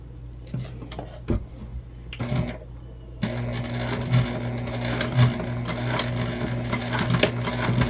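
Sewing machine stitching a tote bag seam at a narrow 1/8 inch allowance, running in short bursts at first and then settling into a steady, close, continuous whir with small mechanical clicks.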